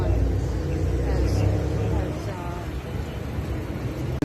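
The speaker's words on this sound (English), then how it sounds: "It's a brand new Porsche GT3. There it goes." A brand new brown Porsche GT3 drives past at a Gumball 3000 rally, its engine rumble loud at first and then fading as it moves away, with voices nearby.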